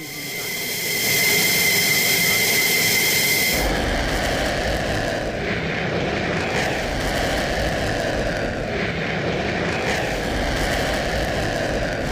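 Israeli fighter jets in flight: a loud, continuous broadband jet roar that rises and holds steady, with a high whine early on that gives way to a deeper, fuller rumble, no voices over it.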